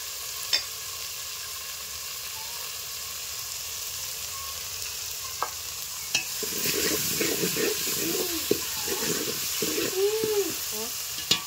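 Green chilli and garlic fry in oil in a pan. A low hum holds for about six seconds, broken by a few sharp clinks, then steady sizzling and scraping stirring strokes take over close by until the end.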